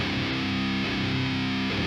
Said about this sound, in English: If you really want to crank up the distortion,